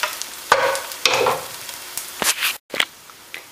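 Garlic and onion fry in a pan with crackling sizzle, broken by several close stirring scrapes and a brief pause near the end.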